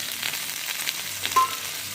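Tomatoes go into hot oil already seasoned with cumin and asafoetida, for a raw green tomato chutney, and set off a steady, close frying sizzle, with a brief sharper hiss near the end and no talking.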